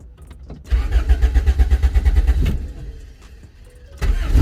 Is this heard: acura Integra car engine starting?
yes